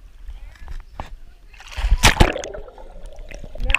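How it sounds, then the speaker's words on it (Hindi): A person jumps into a swimming pool, a loud close splash rising mid-clip with sloshing water after it, preceded by faint knocks and water movement. "यहां से मारेंगे जंप सीधा पानी के अंदर मारो"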